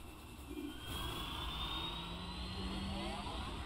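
A flight unit engine in the video game Nier Automata gives a steady, close jet-like roar with a thin rising whine, holding constant for a few seconds with no voices.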